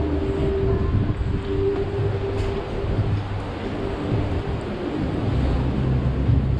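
Strong wind roars across Brighton Pier in February, a loud, continuous buffeting rumble that gusts unevenly against the microphone, with no voices.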